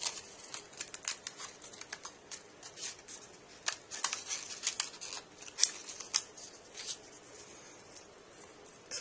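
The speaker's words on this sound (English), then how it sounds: "So then now with the scissors," Scissors snip card parts for a model airport A380 jetway in a run of quiet, crisp cuts, close up and alone, with soft paper rustling between snips.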